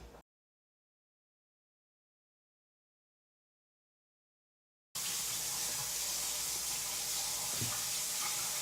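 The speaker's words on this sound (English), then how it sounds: "I'm going to wash them because you have to always wash your meat" Top round beef is rinsed under a running kitchen tap, steady water rushing and splashing close for the last few seconds after a long silence.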